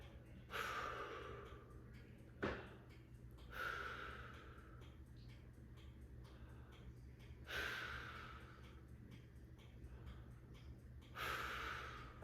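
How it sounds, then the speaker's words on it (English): A person takes slow, deep breaths during a medical assessment, four separate breaths a few seconds apart, close and fairly quiet, with no speech. "will you take a couple deep breaths for me?"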